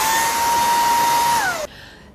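A Redroad V17 cordless handheld vacuum cleaner runs with a loud, steady high-pitched whine and airy rush, then its motor pitch sags as it switches off abruptly, leaving near quiet.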